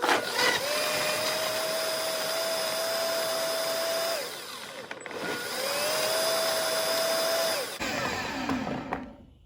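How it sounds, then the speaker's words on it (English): A strong Dash blender whirs through coconut milk and kabocha in two loud, steady runs with a brief pause between them, its motor pitch holding level, before it cuts off and a few clatters follow. "I'm going to go ahead and blend it up"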